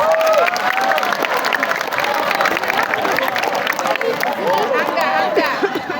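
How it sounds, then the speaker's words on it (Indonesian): Students at a junior high school Friday worship gathering applaud a classmate stepping forward, steady clapping mixed with crowd chatter and some cheering voices, with talk running over it. "Tepuk tangan dulu Bang, Kak."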